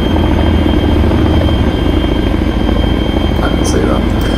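Helicopter in a military video game, a loud, steady rotor and engine drone filling the whole clip, with voices talking over it.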